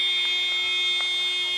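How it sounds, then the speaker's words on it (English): A loud, steady game-ending buzzer at a university netball match drones continuously with a harsh, unwavering tone, sounding alone without any voices. "And the buzzer sounds."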